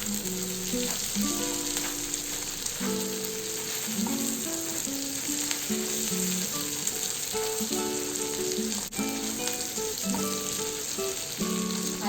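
Chopped tomato sizzles and fries in a hot pan for a spicy cabbage and pea curry, a constant crackling hiss with steady spatter.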